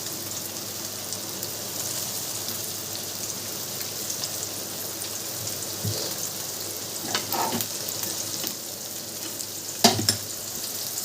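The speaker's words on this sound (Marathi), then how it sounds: "पहिले आपण ही मच्छी फ्राय करू नंतर हे करू" Masala-coated fish fries in hot oil with a steady, even sizzle and a few soft clinks and scrapes near the end; no one talks.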